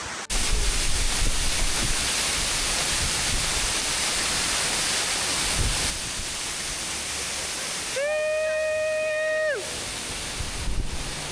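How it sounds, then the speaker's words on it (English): Constant heavy rushing of falling water heard from behind a waterfall near Gimmelwald, Switzerland, loud and close, with a brief tonal whine rising over it near the end. "It's because we're behind a waterfall right now."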